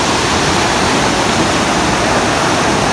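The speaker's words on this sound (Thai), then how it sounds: "เบิ้งนี่น้ำตก" Steady, loud rush of water from the Tat Yoi waterfall, heard close up as a continuous broadband roar with no pauses and no voices over it.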